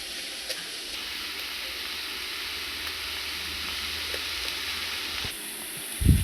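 Grated beetroot sizzling as it fries in a pan, a steady soft hiss throughout with a few faint scrapes of stirring and a louder clatter at the end.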